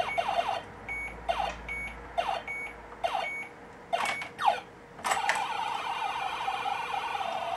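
Repeated electronic alert beeping from a video game on an Acorn Electron home computer, sounding in short regular bursts amid other game sound effects, followed by a denser burst of game noise.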